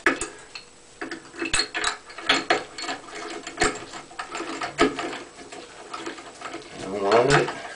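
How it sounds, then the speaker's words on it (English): A handle puller clicks and grinds as it is wound onto a Price Pfister faucet handle during a faucet rebuild. It gives a close, irregular series of sharp mechanical ticks and ratcheting clicks, and a voice murmurs near the end. "Use this tool called the handle puller."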